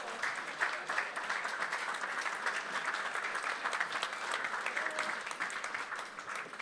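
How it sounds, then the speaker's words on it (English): An audience at an aeronautical opening ceremony breaks into steady applause, a dense, even wash of clapping that carries on without pause, with no voices rising above it. "Round of applause."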